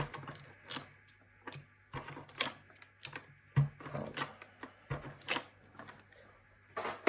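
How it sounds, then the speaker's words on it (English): An ATG 700 tape gun lays double-sided adhesive tape during papercraft on a quad easel card: a series of quiet clicks and ratcheting rolls in irregular bursts, close by, with no talk. "I'm going to put some double-sided tape, just using my ATG 700 gun"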